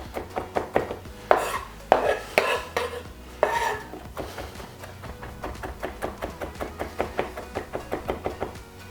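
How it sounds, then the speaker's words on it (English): A knife chops and crushes on a wooden board in a steady run of sharp knocks, a few heavier crunching strikes early on, then quick even taps repeating close by. "back of the knife, chop it down and crush it just a little bit, back of the knife, and then also as well, just there, and just chop through."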